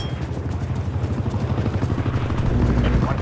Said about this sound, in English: Attack helicopter is ready to deploy.